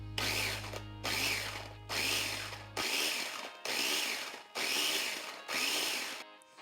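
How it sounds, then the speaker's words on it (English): Food processor pulsing garlic for a marinade: seven short whirring bursts with brief silences between, close and loud, a low hum under the first few pulses. "I'm just going to pulse this until the garlic is really broken down."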